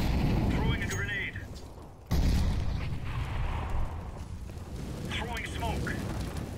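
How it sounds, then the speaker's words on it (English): A single heavy grenade blast erupts in the competitive Counter-Strike map Overpass, a deep booming burst a little past two seconds in, set against steady game ambience with voices underneath. "Throwing a grenade."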